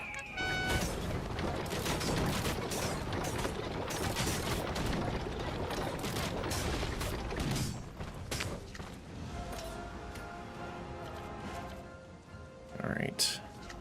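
Cannons fire in the dwarven deckbuilding video game Commander Quest, loud rapid volleys crowding together for about eight seconds before thinning into scattered blasts, with a voice talking over the battle.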